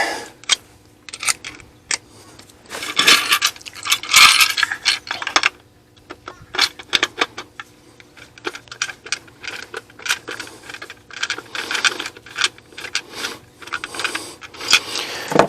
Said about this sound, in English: I'm going to start by removing the backing plate.